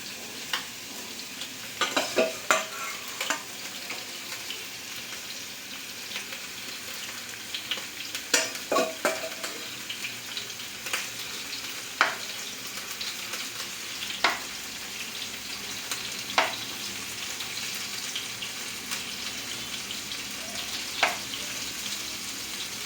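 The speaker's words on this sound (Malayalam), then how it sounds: "എണ്ണ ചൂടായി വന്നിട്ടുണ്ട് ചെമ്മീനൊക്കെ ഇട്ട് കൊടുക്കട്ടെ" Prawns fry in hot oil with a steady, fairly quiet sizzle and hiss, broken by scattered sharp spits and pops, and no one speaks.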